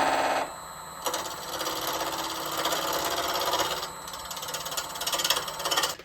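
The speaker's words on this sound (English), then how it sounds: "I'll start with the bowl gouge." A bowl gouge cuts a laminated wood spindle turning on a lathe, giving a steady, close, continuous scraping whir. It dips briefly near the start, then carries on evenly to the end.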